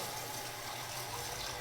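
Water runs steadily from a high-pressure tap for rinsing, a continuous close gushing hiss with no pauses.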